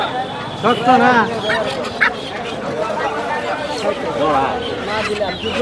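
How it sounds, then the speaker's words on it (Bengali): Local roosters, six of them, offered for sale at a busy rural village poultry market, crow and cluck nearby amid a dense din of other fowl and ongoing talk between buyers and sellers. "ছয়টা দেশি মোরগ"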